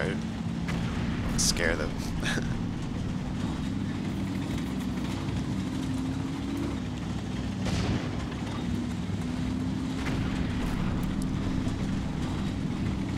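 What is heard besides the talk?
gunfire from Combat Mission: Red Thunder video game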